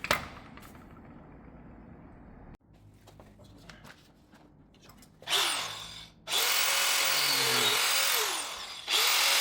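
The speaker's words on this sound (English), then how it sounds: "I think this grinder is going to kind of make really quick work of those straight across cuts." An angle grinder cuts steel for a Land Rover LR3 winch fairlead, a loud sustained high whine that starts, stops briefly, then roars on continuously, close up after some quieter handling noise.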